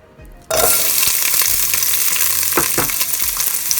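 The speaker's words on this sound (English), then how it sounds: "now I'm going to fry up the cabbage. I'm going to add the onions." Onions and cabbage hit a hot pan and burst into a loud, steady sizzle that holds continuously after a brief quiet start, with a few sharp stirring scrapes near the end.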